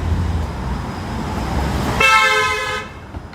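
A horn honks sustained in a busy city street during a protest march, rising out of steady traffic and crowd noise near the end, loud and fairly close.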